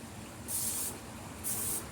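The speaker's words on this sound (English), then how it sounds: "it's perfect for me to start spraying the grates" Cooking oil sprays onto grill grates in two short pressurized hissing bursts about a second apart, close and sharp over a faint low background hum, with no talking.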